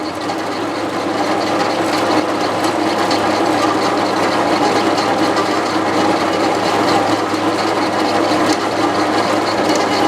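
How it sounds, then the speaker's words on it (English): Steady, loud grinding of a small piece of metal being cut from a wood splitter push plate, a continuous harsh whine with no pauses. "here we are cutting that little piece of metal off"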